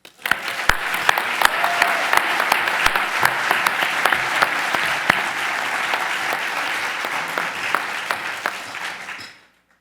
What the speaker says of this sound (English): Please give a warm round of applause for Hope Calhoun.